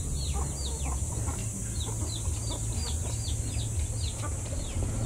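Chickens cluck on a farm in a steady run of short repeated calls over a constant low rumble, fairly close and at moderate volume, with no talking.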